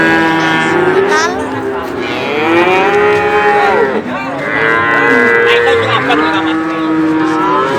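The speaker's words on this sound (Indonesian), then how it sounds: "Ini sapi simental. Bagus ini." Simmental cattle at the Wirosari cattle market moo loudly and close by, with several long, overlapping calls rising and falling over steady crowd background.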